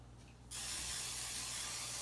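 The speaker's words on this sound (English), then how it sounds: "I'm going to go ahead and add just a little teeny bit of an olive oil spray to it." Olive oil spray misted over spaghetti squash: after a quiet half second, a steady, close aerosol hiss starts and runs without a break to the end.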